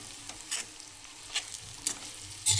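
Egg frying in a pan as chilli powder and cumin seeds are stirred in, giving a quiet sizzle with a few soft, separate scraping strokes of a spoon against the pan.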